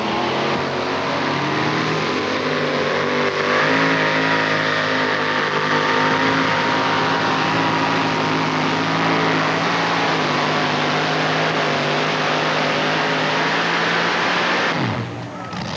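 Pulling truck engine at a 1989 NTPA tractor pull in Columbus, Ohio, roaring loud and sustained at high revs for about fifteen seconds before cutting off abruptly.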